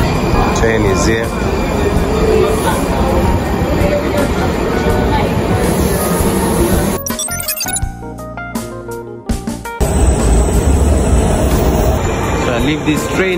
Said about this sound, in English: Train is here.